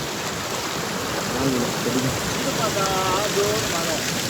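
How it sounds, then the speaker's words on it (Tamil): Heavy rain pouring steadily onto water at a fishing spot, a dense continuous hiss, with faint voices talking in the background. "எங்கிட்டு பார்த்தாலும் மழை தான்"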